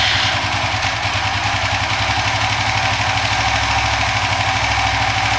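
A Suzuki FU 150 fuel-injected motorcycle with a 68 mm bore-up runs at a steady, close, loud idle, its engine pulsing in an even, slightly knocking rhythm with no talk.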